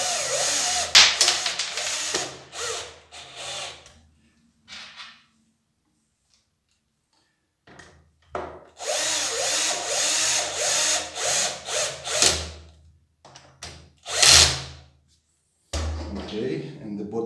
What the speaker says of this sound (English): I can use the cordless screwdriver for this.